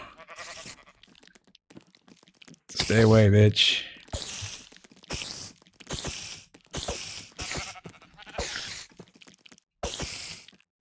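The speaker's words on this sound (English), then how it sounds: "There's the sheep." A Minecraft sheep bleats once, loud and close, among clicky game sounds and short bursts of activity, while a person speaks briefly nearby.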